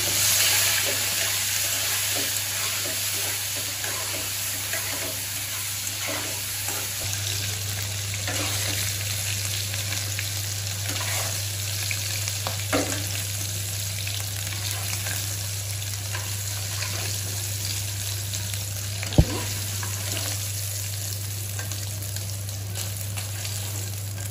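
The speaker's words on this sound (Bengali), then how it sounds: "দিয়ে দিচ্ছি একটুখানি নুন, আর একটুখানি হলুদ গুঁড়ো, তারপর একটু নাড়িয়ে দিই" Oil sizzles steadily in a pan as salt and turmeric powder are added and stirred, a constant close frying hiss with faint scrapes and one sharp knock, over a low steady hum.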